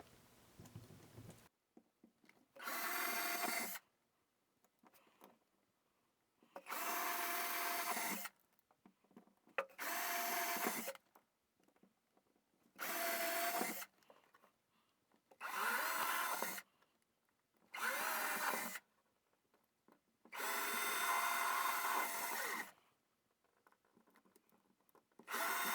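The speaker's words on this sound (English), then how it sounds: "Now, I've already got my drill ready with the 1/8" bit, so let me go ahead and drill some holes." Power drill fitted with a 1/8 inch bit boring holes for a Blue Point switch machine install, heard as eight separate bursts of a few seconds each with short quiet gaps between, loud and close, no talking.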